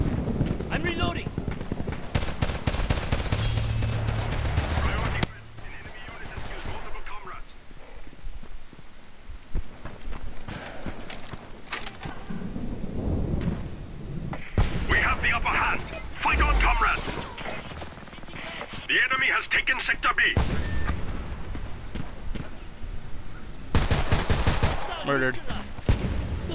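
Rapid bursts of automatic gunfire from a Homefront online Domination match, with fast volleys recurring through the stretch while a player talks over the action.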